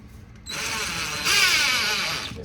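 Power drill driving screws into a water line pipe, a loud close whirring motor that starts abruptly, rises in pitch and strain midway, then holds steady before easing off, with no talk over it.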